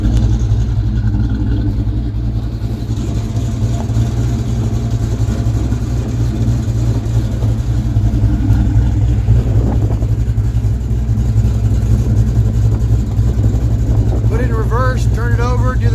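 A car with a freshly rebuilt Ford 8.8 rear end runs steadily, a loud continuous engine and exhaust drone close by, with a voice talking over it.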